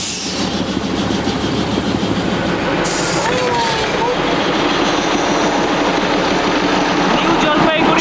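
The historic Darjeeling Himalayan Railway train runs near New Jalpaiguri station with a loud, close engine rumble and rhythmic clattering of the wagons, steady throughout.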